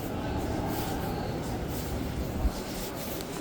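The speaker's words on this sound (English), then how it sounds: "Oh, looks like a train's arriving." TTC subway train arriving at Kipling Station, a steady broad rumble and rail noise filling the platform with a faint thud near the end and no talk.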